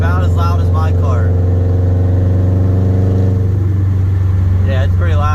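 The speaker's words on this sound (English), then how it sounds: "This STI is currently running a downpipe and an ETS catback with stock headers, and it's about as loud as my car." Subaru STI fitted with a downpipe, ETS catback exhaust and stock headers, idling with a loud, steady low rumble, while people talk over it at the start and end.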